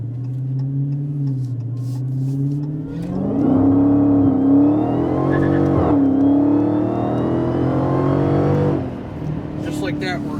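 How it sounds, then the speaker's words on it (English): A 2016 Dodge Hellcat's deep, throaty exhaust rises as the engine revs and the car accelerates hard, a loud close roar climbing in pitch in stages, with talking heard before and after the run. "it sounds as nice or even better than some of our old muscle cars because of the deep"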